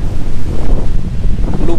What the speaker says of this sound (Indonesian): Sama angin juga kencang.